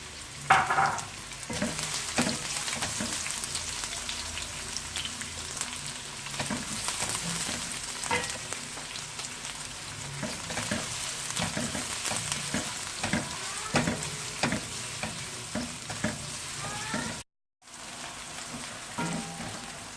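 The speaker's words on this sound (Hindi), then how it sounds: "कढ़ाई में तेल लेते हैं हाफ कप। इसमें हम प्याज अपने लाल कर लेंगे।" Onions fry in about half a cup of oil in a kadhai wok, giving a steady, close crackling sizzle that runs continuously with small stirring bursts and a brief dropout near the end.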